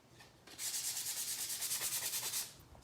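Fine grit sandpaper is rubbed lightly and quickly back and forth over a painted wooden pumpkin, producing a soft rhythmic scratching close to the mic that lasts about two seconds.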